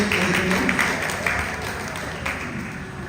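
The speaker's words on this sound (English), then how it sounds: "please give a big round of applause to them." A crowd at a temple festival celebration claps, a steady patter of applause that peaks early and then slowly thins out, with some voices mixed in.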